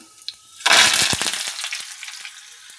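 Cumin and mustard seeds with dried red chillies and curry leaves hit hot oil with a sudden loud burst of sizzling and popping crackles that gradually settle into a steadier fry.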